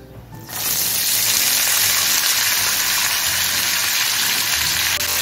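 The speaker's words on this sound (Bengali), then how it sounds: "পেঁয়াজটা একটু বাদামি করে ভেজে নিচ্ছি" Onions sizzle steadily in hot oil for a Bengali fish curry, a loud, continuous frying hiss that swells in after a brief quiet start and holds evenly throughout.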